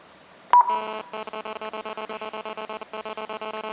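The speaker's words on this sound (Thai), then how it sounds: "กรุณากดเบอร์โทรศัพท์" Keypad tones sound as a phone number is dialed on a mobile top-up kiosk running the One to Call system: a sharp beep, then a rapid, even string of crisp, loud dial tones, with one short pause partway through.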